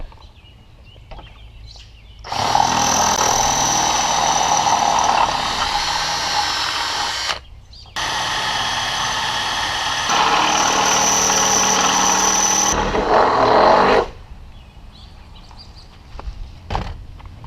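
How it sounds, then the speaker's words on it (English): A power drill bores holes out to 3/8 inch in a Jeep Wrangler's body panel near the hood, whining loudly in two long sustained runs separated by a short pause, close to the microphone. "we're gonna drill all 3 of these out to 3/8, as well as the 2 on the hood"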